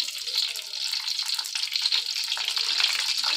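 Eggplant frying in a pan of oil that is not yet fully hot, a steady bright sizzle with crackling pops, close and continuous, with no talking.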